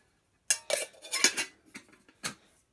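Small stainless steel camping kettle pieces knock and clink together at close range in a short burst of metallic taps, followed by a final click.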